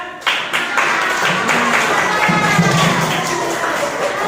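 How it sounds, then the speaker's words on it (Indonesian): Students in a classroom applaud their classmates with a burst of clapping and crowd noise, steady throughout and mixed with some murmuring voices. "Tepuk tangan buat teman-teman ya."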